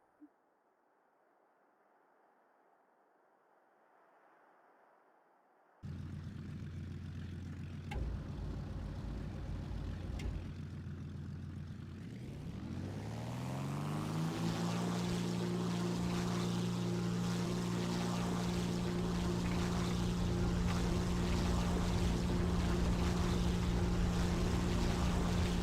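The engines of a Ta 154 A1 aircraft in War Thunder spool up for takeoff after a quiet stretch. A steady low drone rises in pitch and volume into a loud, sustained roar with strong engine harmonics.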